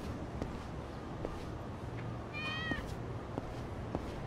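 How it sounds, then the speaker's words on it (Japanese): A cat meows once in the Yakuza 6 video game, a faint drawn-out cry rising from steady background ambience. "めっちゃ猫おるな。"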